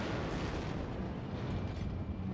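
A shell strikes the USS Cleveland cruiser in the naval battle game World of Warships, a loud, dense booming roar that fills the whole moment without a break.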